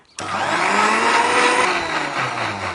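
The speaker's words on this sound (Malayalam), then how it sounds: "നന്നായിട്ട് മിക്സിന്റെ ജാറിൽ ഇട്ടിട്ടുണ്ട് അടിച്ചെടുക്കുക" A mixer grinder blending butterfly pea flower lime juice starts abruptly and whirs loudly and steadily, a close high-pitched motor roar blending for nearly three seconds.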